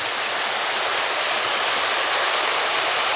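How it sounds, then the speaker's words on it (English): Sweat Heifer Creek rushes steadily beside a trail shelter in the Great Smoky Mountains, a loud continuous wash of flowing water close by with no talking. "So here's the creek right by the shelter."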